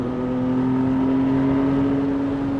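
A Porsche 718 GT4 on track, set up with adjustable front camber plates, rear toe links and spaced-out rear wheels, gives a steady flat-six drone at constant revs, heard from close in-car with a strong tonal hum.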